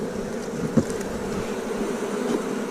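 Honey bees fly in and out of a colony being prepared for winter, making a continuous low buzzing hum close by with no talking.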